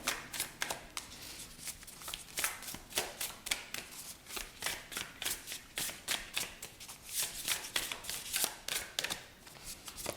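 Tarot cards shuffled by hand during a psychic card reading, a close, steady run of quick papery riffles and flutters with short pauses, continuing throughout with no voices.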